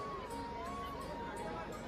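Dense crowd of pilgrims packed into a temple hall, a low continuous murmur of many voices with shuffling, fairly faint and steady throughout.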